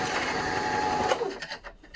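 A sewing machine motor runs steadily with a dense mechanical whir, close and fairly loud, then breaks into a few uneven bursts toward the end as it slows.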